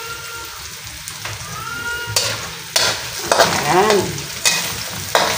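Onions for goat kaldereta sauté in a hot pan, with a close, crackling sizzle and bursts of spatula scraping and stirring, briefly under a single spoken word.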